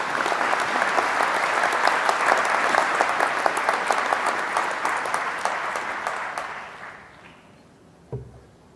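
Warm applause from a graduation ceremony audience welcoming Dr. Timothy Lynch for an occasional address, a steady dense clatter of many hands that swells, holds, then fades out, followed by a single faint bump near the end.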